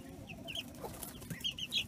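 Small high chirps and peeps from young quail chicks in an outdoor pen, coming in short scattered bursts over a low rumbling background, with no talking.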